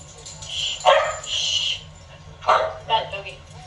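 A dog barks a few times in a room where people are chatting about family history; there are short, moderately loud barks around one, two and a half and three seconds.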